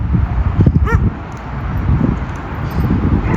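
Dogs in an outdoor park with a dog walker, a short yelp-like call near the start amid rustling, wind and faint background activity, with no clear barking sequence.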